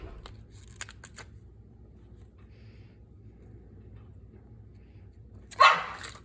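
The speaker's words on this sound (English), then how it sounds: "Barking is contagious in our house." A few faint, sharp barks early on over a low hum, then a louder burst near the end; otherwise quiet.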